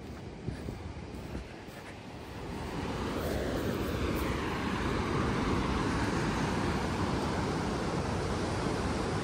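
Ocean surf and wind roar beside a cliffside golf course, a broad steady rush that swells louder after the first couple of seconds and holds, with no talking.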